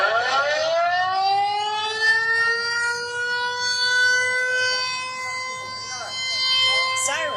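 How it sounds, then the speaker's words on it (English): A loud civil defense air raid siren wails steadily during an annual air raid drill in Taipei, its rising tone holding for several seconds with a second siren layered in near the end. "Sirens went off at exactly 1:30 p.m. local time as the annual Wan'an air raid drills kick off in Taipei"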